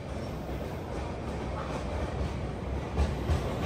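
Andhra Pradesh Express rolls along the rails, a soft steady rumble with faint rhythmic wheel clatter, heard from inside and fairly quiet.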